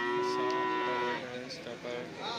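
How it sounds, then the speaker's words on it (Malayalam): A single loud, drawn-out low moo from a nearby water buffalo at a cattle market, tapering off into softer grunting at the end. "ഇവിടെയും വലിയ വലിയ പോത്തുകളൊക്കെ നിൽപ്പുണ്ട്"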